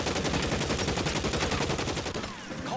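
Rapid automatic gunfire rattles continuously in the L.A. Noire video game, a dense, loud burst that fades slightly at the end.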